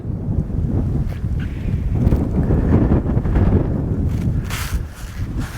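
Steady wind buffets the microphone at a fishing match pond, a loud, continuous low rumble with no pauses and no voices.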